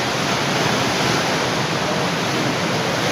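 Powerful ocean waves surge onto a beach along the coast after warnings of high surf, heard as a loud, continuous roar of broadband wash with no breaks or voices.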